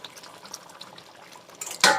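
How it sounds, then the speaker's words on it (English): Water poured into a pot of simmering oxtail: a soft bubbling simmer runs quietly for most of the moment, then a sudden loud, splashing rush of liquid comes in close at the end. "Yep, just add some more water to it."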